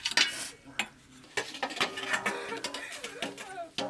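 Metal pots and dishes being scrubbed and washed by hand in a home kitchen give off irregular clinks and scraping clatters, some sharp and close, with voices talking in between.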